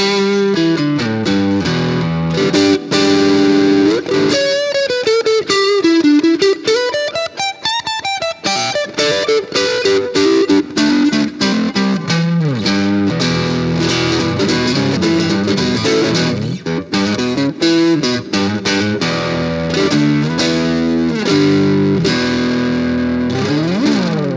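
An electric guitar, a James Tyler Japan Studio Elite 10th Anniversary on its neck pickup, plays with heavy overdrive: gritty sustained chords and bending lead notes ringing out alone, loud and close, with a touch of echo.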